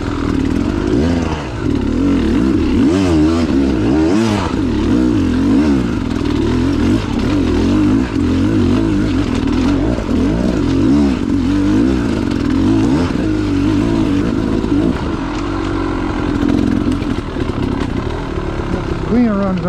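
A Beta 300 dirt bike ridden with no clutch climbs one of the toughest hills on a trail loop, its two-stroke engine revving hard and warbling continuously throughout, loud and close, with brief talk underneath.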